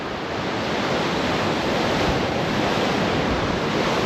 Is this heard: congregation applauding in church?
no